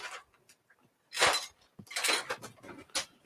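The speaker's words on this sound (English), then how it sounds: "Let me stir it up before you add ice, though." A smoked maple bourbon pear smash is stirred in a glass before any ice goes in, producing close, irregular clinks and scraping bursts of the spoon against the glass, with no voices.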